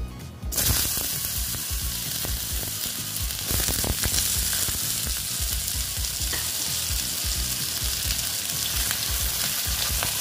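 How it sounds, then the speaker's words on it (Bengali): Potatoes dropped into hot oil tempered with nigella seeds set off a loud, dense, continuous sizzle that starts abruptly and holds steady, with occasional stirring clinks close by. "আলুগুলো দিয়ে একটু ভেজে নেব"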